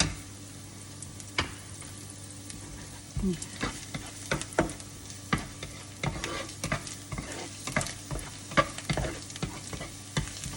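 Wild garlic and fresh large shrimp stir-fry in a pan, a steady sizzle under repeated scraping and stirring strokes that grow busier toward the end.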